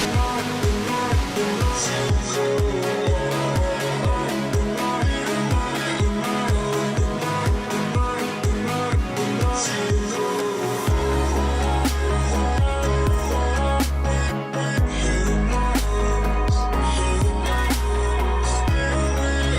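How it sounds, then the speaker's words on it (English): A massive waterfall in Laos heard from the top, a loud, unbroken roar of falling water that fills the whole stretch, with low rumbling thumps at times and no talking. "The waterfall just keeps going and going."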